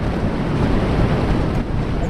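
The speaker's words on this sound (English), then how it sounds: "This is ocean." Synthesized ocean surf in the CsoundMeta music environment, a steady, full broadband wash that rolls on evenly and loudly for the whole stretch, with no voices over it.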